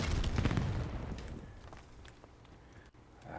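A grenade explosion in Black Ops 7, a loud close boom at the start that decays into rumble and scattered game sounds.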